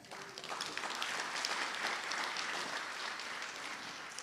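An audience at a ribbon cutting ceremony for the Martin Luther King Jr. Center applauds, a soft, steady patter of many hands heard from a distance, holding even throughout.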